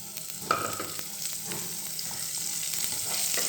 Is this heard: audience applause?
no